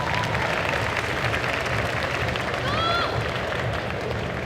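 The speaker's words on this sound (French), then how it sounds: "On applaudit bien fort quand même Vixen." Audience applause at a group cosplay contest, dense steady clapping and crowd noise filling the whole stretch, with a faint whistle-like tone rising briefly near the end.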